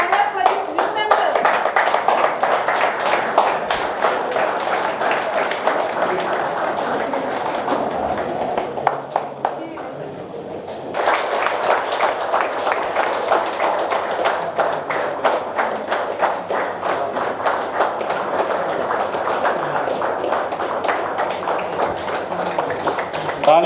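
An audience at a Rotary club installation ceremony claps in sustained rhythmic applause, dipping briefly midway before swelling again, with speech mixed in.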